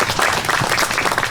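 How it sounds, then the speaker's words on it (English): A gathering gives Chris a round of applause at an awards-style highlights event, a short burst of full, close clapping from many hands. "could we give Chris a round of applause?"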